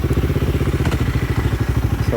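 Guerrilla 450 motorcycle pulling away offroad on a hill trail, its single-cylinder engine thumping in a steady loud pulse up close with some clatter.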